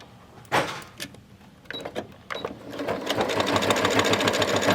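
A domestic sewing machine stitches a mitered gusset corner on a fabric clasp wallet, starting with brief starts and stops, then running steadily and rapidly from about halfway through, close and clear with no talk.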